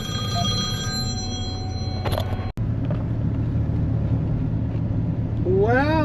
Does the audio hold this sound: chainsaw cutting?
no